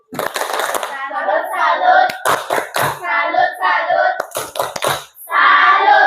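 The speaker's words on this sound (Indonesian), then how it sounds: "Tepuk salut." A class of students does a rhythmic chant-and-clap cheer in a classroom, sharp synchronized claps punctuating bursts of young voices calling out in unison, pausing briefly before a final loud burst.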